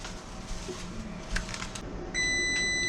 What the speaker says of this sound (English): Oh, timer's going off again.